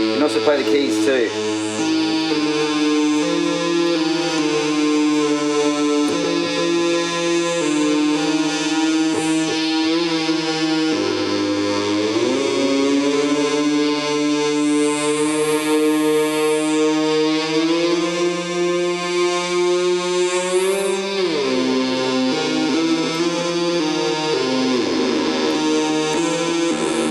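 Keys played on a homemade light-controlled Moog-style synth with echo effect, bright buzzy harmonic notes gliding and bending with swooping high sweeps, loud and continuous with a smeared, echoing tail.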